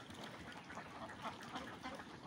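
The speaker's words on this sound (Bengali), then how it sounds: "তো দেখেন খাবার দিয়ে আসছে, হাঁসে খাইতেছে" Ducks on a duck farm, being fed, give a faint, dense chatter of overlapping quacks and murmurs that continues throughout without a break.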